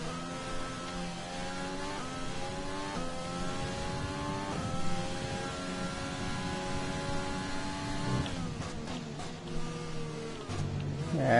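An F1 car lapping Bahrain in the F1 2020 video game, a high engine whine climbing through gear after gear and then dropping off as the car slows, steady and close.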